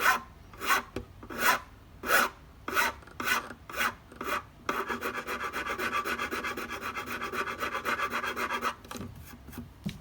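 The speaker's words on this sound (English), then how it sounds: "I'll go to a finer file." A finer file works a violin nut, first in about ten separate rasping strokes, then in a fast steady run of short scrapes before a few last strokes; close, quiet and with no talk.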